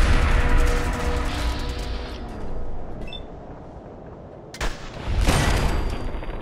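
Video game gunfire from a shooter session: loud bursts of shots and booms up close, fading into a rumbling lull before a second sharp burst rises near the end, with no talking.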